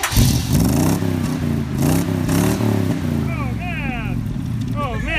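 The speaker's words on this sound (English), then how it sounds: "Yeah, rev the engine." A van engine revs in short repeated bursts, rising and falling several times at moderate distance, while people talk and exclaim over it.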